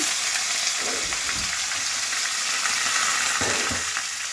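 Chopped raw banana and potato fry in hot oil, a dense continuous sizzle close up with a few soft stirring scrapes mixed in.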